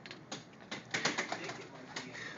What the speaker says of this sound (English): Stace, you want to get the bird while I answer the phone?